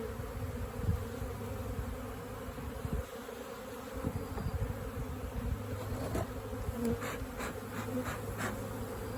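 Honeybees swarm around an open hive during an inspection before the honey flow, a soft, continuous buzzing drone with individual bees zipping past now and then.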